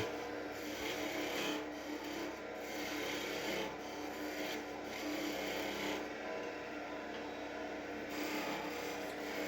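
A skew chisel cuts a V groove into a wooden birdhouse ornament body spinning on a lathe, giving a continuous close raspy scraping hiss that pulses slightly as the cut is worked deeper, with no talk.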